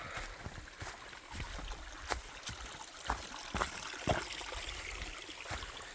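A creek below a waterfall on a forest hike runs with a soft, steady trickle and burble, close by and quiet, broken by a few faint knocks and thumps.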